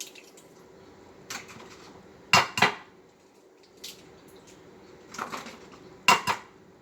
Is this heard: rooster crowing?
no